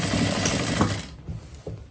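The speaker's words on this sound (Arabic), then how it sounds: "صافي غادي نخيط" Sewing machine stitching a trouser leg, a loud steady mechanical whir for about a second, then stopping with a few faint clicks.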